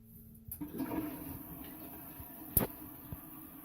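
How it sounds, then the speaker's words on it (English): A push-button toilet flushes, a sudden rush of water followed by a fading gurgle and a sharp click, close in a quiet room. "Here's your flush."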